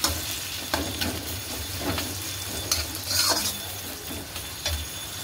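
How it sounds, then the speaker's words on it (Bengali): Chopped onions sizzle in oil in a kadai with a soft steady hiss, while a utensil scrapes and stirs them in several distinct strokes. "এগুলো ভেজে নিই।"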